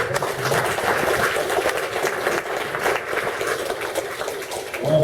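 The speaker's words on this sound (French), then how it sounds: "On pouvait continuer à l'applaudir" Steady applause from an audience at a seniors' birthday celebration, a dense, even patter of many hands clapping throughout without pause.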